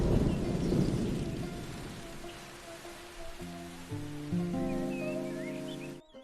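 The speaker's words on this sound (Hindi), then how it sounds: "अब बाहर की वर्षा थम चुकी है।" Rain falls outside with a low rumble of thunder, strongest at the start and fading away, before soft sustained music tones take over.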